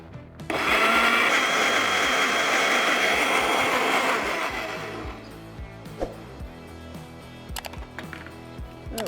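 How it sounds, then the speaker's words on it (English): A blender whirs loudly for about four seconds, pureeing chipotle peppers in adobo sauce into a smooth mixture, then winds down and stops, leaving faint kitchen clicks and light knocks. "We put it all into a blender, and now we're just going to puree this till it is nice and smooth"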